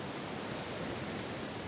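Sea waves wash onto a beach in Mumbai, a steady broadband roar of surf with no distinct breaks, fairly quiet and close, with no voices.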